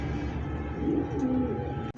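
A fancy racer pigeon cooing close by, low soft throaty coos over a constant background hum.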